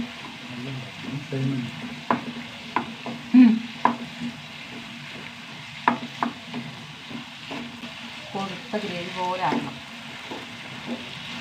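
Potato masala is stirred and fried in a pan, with a steady sizzle broken by irregular spoon scrapes and knocks, while a voice talks intermittently over the cooking.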